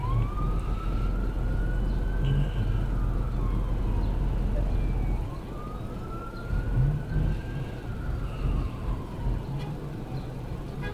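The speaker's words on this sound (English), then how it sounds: "The ambulance drives by." An ambulance siren wails in long rising and falling sweeps, moving past over steady road traffic rumble, loud and close throughout with no one talking.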